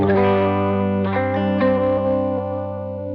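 Electric guitar run through a Tape Eater effect in a Line 6 preset, sustained chord with wobbly, degraded tape texture and chorus-like warble, a few soft restrikes, close and fairly loud, slowly fading, with no talking.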